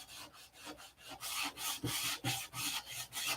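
Rhythmic rasping strokes of hand sanding into a wooden fillet with a sanding grip, back and forth at a steady pace, close and fairly loud.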